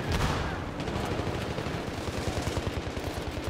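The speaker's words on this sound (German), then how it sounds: "So, die ballern da, weiß der Geier worauf." Rapid gunfire from a Battlefield 3 multiplayer match, with dense bursts of automatic shots and booming reports crackling continuously at fairly close range, no voices over it.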